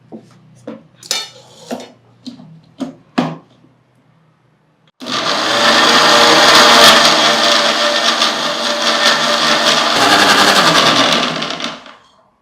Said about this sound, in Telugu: మిక్సీ పట్టేసుకున్నాం